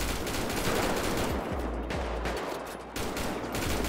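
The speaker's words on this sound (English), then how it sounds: "Somebody else still shooting." Rapid bursts of automatic gunfire crackle through a GTA 5 shootout, dense overlapping shots filling the whole stretch with brief dips between volleys.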